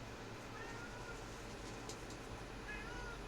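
A cat meows twice, faint and short, against a low, steady background hum.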